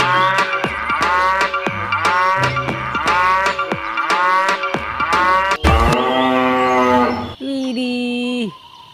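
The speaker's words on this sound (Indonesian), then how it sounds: "lihat yang ini ada hewan sapi" A cow moos loudly and repeatedly in long, drawn-out calls, one after another, close and clear, with a final higher, strained moo at the end and no talk.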